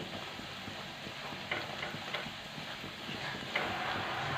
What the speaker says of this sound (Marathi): आता हे वाटण आपल्याला छान लाल होईपर्यंत आहे ना मस्त असं परतून घ्यायचं आहे